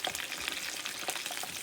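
Chicken frying in a pan of oil on a stove, a steady close hiss of sizzling with scattered crackles and pops throughout, no voices.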